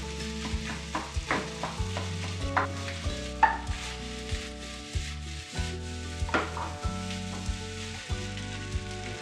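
Fried rice with scrambled egg and salt being stirred in a pan, a continuous sizzle with repeated scraping and knocking of the spatula at an uneven rhythm, close up and without speech.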